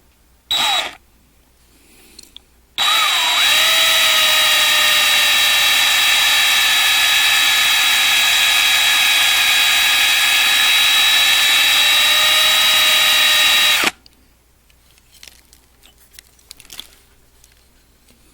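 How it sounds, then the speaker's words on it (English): A power drill whines at a high, steady pitch for about eleven seconds while drilling out rivets on a 1/64-scale model car, starting and stopping abruptly, with quiet handling noises before and after. "there's two more rivets I want to drill out for the internal"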